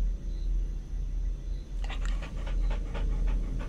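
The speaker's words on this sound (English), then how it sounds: "Oh, there's dog." A dog in the Redwood Lake Incident video game pants close by in quick rhythmic breaths that start partway through, over a steady low background hum.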